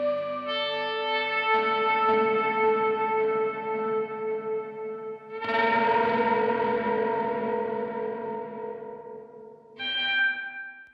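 Sustained electric guitar chords ring out heavily processed, with shimmering, bell-like echoes and long decays, struck three times in succession.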